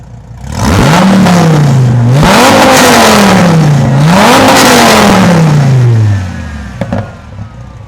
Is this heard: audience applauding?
no